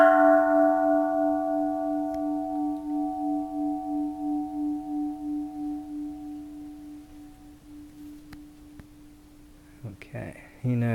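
A bronze Japanese Buddhist temple bell is struck once and rings with a long, steady, beating tone that slowly fades, ending with a brief voice and light handling noise near the close.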